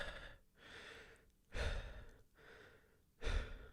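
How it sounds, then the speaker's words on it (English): Heavy breathing from the One Piece anime character Katakuri, slow deep inhales and exhales in a steady rhythm of about four breaths, close and fairly soft, with no speech. "Katakuri spends 3 seconds on screen just breathing"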